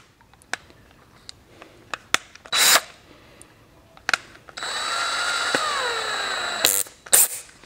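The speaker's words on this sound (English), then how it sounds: "I'm gonna get my drill." Cordless power drill spinning an engine valve through rubber tubing while rebuilding a 295cc Robin EH-29C golf cart engine; two short whirs, then a steady sustained drill whine of a couple of seconds, with clicks and handling knocks around it.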